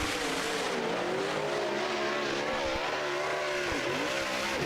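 Super late model race cars roar around Blackwater Speedway in Florida during qualifying, a loud, continuous engine drone with rising and falling pitch as cars pass close by, with faint tire noise.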